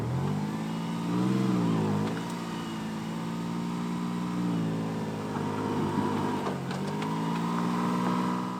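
A 3rd gen Toyota 4Runner engine drones at low revs as it crawls over dirt piles in two-wheel drive, rising and falling in pitch with each climb, steady and close with no talk.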